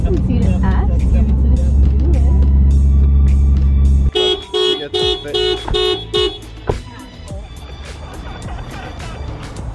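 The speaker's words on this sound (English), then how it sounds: "keeps setting up the car alarm, being extra right now" A car alarm blares in rapid repeated electronic honks after a loud engine drone, with people talking nearby.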